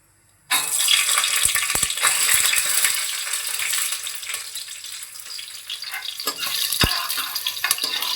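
Green chillies hit a hot pan of oil while making Punjabi kadhi, setting off a sudden loud sizzle and crackle that keeps frying steadily, with a few metallic clinks of utensils.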